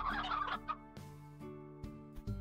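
Poultry sounds from the Slime Rancher video game, gobbling and clucking calls, loud at first and then fading into sparser short calls over a steady tonal game background.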